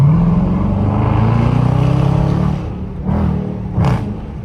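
A Dodge Charger R/T rolls along at night with a loud, close engine hum that eases off, then briefly swells again, with no one talking.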